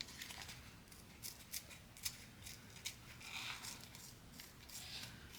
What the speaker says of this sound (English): I'm going to take my scissors and just cut around.